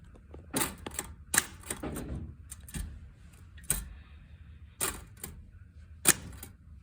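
A manual typewriter with some stuck keys is typed on in short bursts, with sharp, close key strikes and carriage clacks separated by brief pauses, and no voices.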